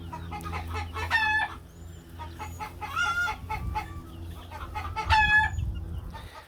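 Chickens cluck and crow while roaming loose among garden beds on a warm day, with repeated overlapping calls and clucks at moderate distance over quiet outdoor ambience.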